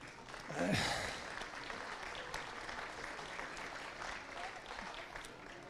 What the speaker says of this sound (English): So round of applause for Antrim there